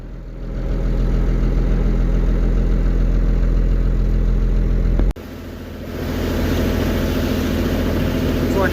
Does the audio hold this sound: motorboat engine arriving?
yes